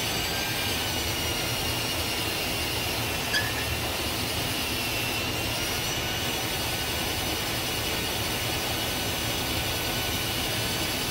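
Valve lapping with grinding compound on a VW Beetle engine valve seat, heard as a steady, dense grinding rasp that runs continuously at even loudness, close up, with no talking.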